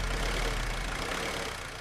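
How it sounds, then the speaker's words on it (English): A diesel car engine converted to run on chip fat idles close by, a dense, rumbling low chug that stays steady and fades slightly toward the end, with no voices. "Runs perfectly normally, just like any other diesel engine."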